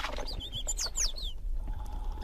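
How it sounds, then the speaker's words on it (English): Several birds call and chirp in the misty Galápagos highlands near a crater rim, a run of clear, close whistled notes and rising chirps for about a second before the calls fade into quiet ambient background. "There are several kinds of birds up here."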